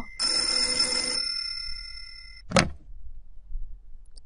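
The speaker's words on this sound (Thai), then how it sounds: "โทรศัพท์" A telephone rings in the horror video game Mermaid Swamp: one loud electronic ring burst that stops after about a second, then a short sharp knock or click and quiet low rumbling.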